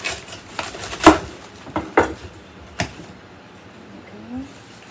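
Knife cutting the ends off fresh garden vegetables for kimchi, a few sharp close chops and thuds on a board in an uneven rhythm, followed by quieter handling.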